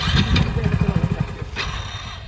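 A motorcycle engine putters with a rough, rapid idle close by, with voices briefly talking over it.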